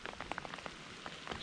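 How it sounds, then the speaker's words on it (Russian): Light rain patters steadily on the ground and water beside a large river in its upper reaches, grayling country, a soft, faint, close spatter with no voices. "Даже дождь красиво идет."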